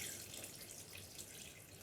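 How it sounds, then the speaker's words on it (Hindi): About half a glass of water poured into a pot of mutton with ginger pieces, a brief steady splashing pour, soft and close. "साथ इसके तकरीबन सिर्फ़ और सिर्फ आधे गिलास के करीब पानी,"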